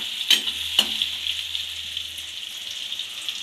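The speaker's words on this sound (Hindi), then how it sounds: "हरी मिर्च जो हमने काटी थी उसको चला देंगे अच्छे से, हल्का सा भूनेंगे तेल में" Red chili powder and chopped green chilies fry in hot oil for a bhindi sabzi, a steady light sizzle with a couple of sharp stirring scrapes near the start.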